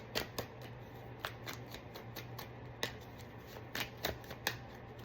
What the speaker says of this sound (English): I shuffled, y'all saw me shuffle this deck.